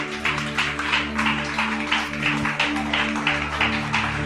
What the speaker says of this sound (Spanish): Alguien que aplauda la presencia del Dios Todopoderoso.